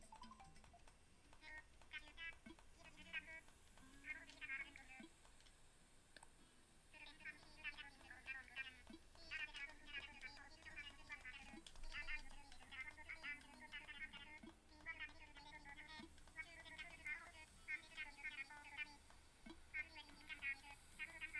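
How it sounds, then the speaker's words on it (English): A phone rings in Animal Crossing: New Horizons as a repeating pattern of bright, chirpy tonal bursts, fairly quiet beneath ongoing talk from a player. "My phone is ringing."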